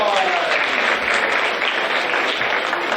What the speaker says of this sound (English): Could we please give Arwa a big round of applause?